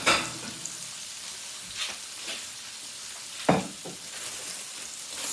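Chicken fillet sizzling in a frying pan for a homemade burger, a steady soft crackle broken by a few louder stirring or scraping clatters, heard alone without talk.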